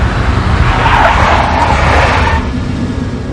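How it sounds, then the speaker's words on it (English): A big black Mercedes skids loudly in the Max Payne video game, a sustained tire screech over a roaring engine that eases off after a couple of seconds. "A big black Mercedes."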